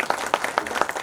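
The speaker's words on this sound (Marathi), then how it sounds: "आपण सर्वजण त्यांचं टाळ्या वाजवून अभिनंदन करूया." A few people in the audience at a state-level astronomy enthusiasts' conference clap, producing sparse, distinct hand claps in a quick, uneven rhythm. The clapping is close and fairly light.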